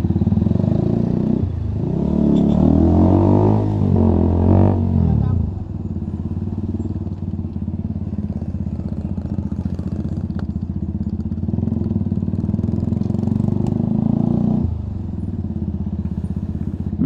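A Husqvarna Svartpilen motorcycle idles close by in traffic, its muffler giving a steady, throbbing low rumble after a brief rise and fall in revs at the start.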